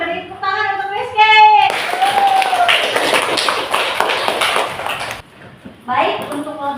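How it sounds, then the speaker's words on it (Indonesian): Classroom applause for a student during an Islamic religious education lesson on halal and haram, a few seconds of dense clapping between a teacher's speech before and after. "Beri tepuk tangan untuk Rizky."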